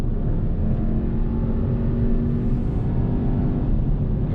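A Volkswagen Arteon pulls hard on a highway, its engine and road noise forming a steady, loud cabin rumble with a faint rising whir.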